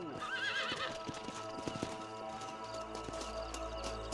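Horses in the video game Red Dead Redemption clip-clop and whinny close by, hooves thudding in an uneven rhythm over game music and ambience.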